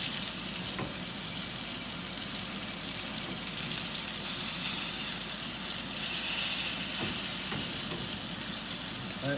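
Chicken fries in hot oil in a heavy pan, giving a steady close sizzle and bubbling crackle that holds at an even level throughout, with a few faint clicks and no speech.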